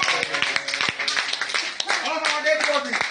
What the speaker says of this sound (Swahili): Pigia Bwana makofi.